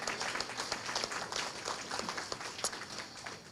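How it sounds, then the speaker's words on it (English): A room of guests at a recovery center tea party applauds the staff, steady faint clapping throughout from a crowd at some distance. "let's give all of our staff a round of applause"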